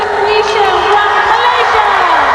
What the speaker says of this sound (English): here comes the biggest cheer of the night